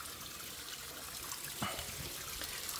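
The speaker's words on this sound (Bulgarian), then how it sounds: "Тече си бистра водичка." Clear water trickles steadily through a settling overflow in a backyard drainage setup. The soft, continuous flow is close and unbroken and has a faint splash near the middle. No voices are heard.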